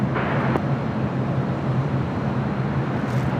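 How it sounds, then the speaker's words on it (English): An American Airlines A319 airliner, formerly with America West, arrives at LAX as a steady distant jet roar with broadband rumble over airport background, moderately faint and unbroken throughout. "This flight coming in from SFO, American Airlines Flight 131. It's an old America West A319 delivered in June of 2001."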